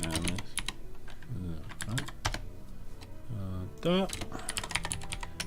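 Keys clatter on a computer keyboard in quick, uneven bursts of close clicks, with a voice talking intermittently over the typing.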